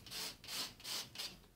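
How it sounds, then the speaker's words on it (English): Steady back-and-forth sanding strokes rasp across a painted wooden door, about four even passes in a quiet room. "So you just keep on sanding"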